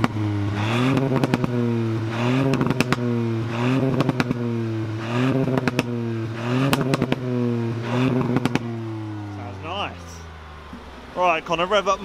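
A Ford Fiesta ST engine revs repeatedly through its exhaust, a loud, close series of about six rising blips, then settles to idle before faint voices and crackles follow.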